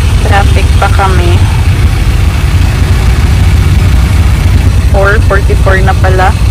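Vehicle engines idle in stopped traffic, a steady low rumble filling the whole stretch while a voice speaks over it near the start and again toward the end.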